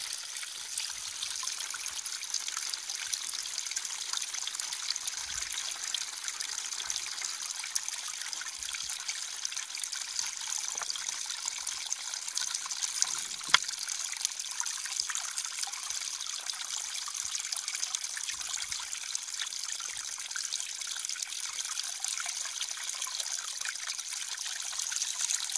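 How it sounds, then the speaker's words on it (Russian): Spring water trickling and gushing out of the ground from several sources at once, a steady continuous bubbling and splashing close by with no voices over it. "Вот ключи как бьют, ребята, отовсюду."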